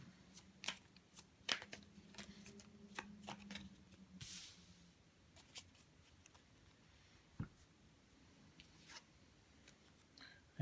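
Tarot cards are shuffled in a quiet room during a daily reading, giving soft, irregular flicks, taps and riffles spread across the whole stretch, with no voices.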